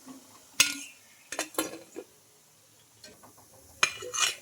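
Crisp fried bread vadas lifted out of hot oil onto a plate, with a few sharp metallic clinks and scrapes of a utensil against dishware, spaced out between quiet pauses.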